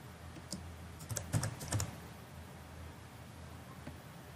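A few soft keystrokes tap on a computer keyboard in a short cluster, then quiet background hiss with one more faint click.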